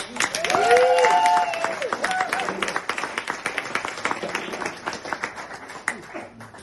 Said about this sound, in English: So give him a round of applause and welcome up Robbie.